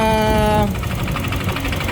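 A noisy Honda Click scooter engine runs in a repair shop with a suspected crankshaft fault, giving a close, rough idle with a brief whine at first, then steady knocking and rattling.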